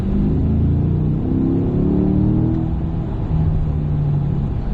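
A car engine revs up and accelerates with a loud, close, continuous rumble whose pitch climbs and falls, with no talking.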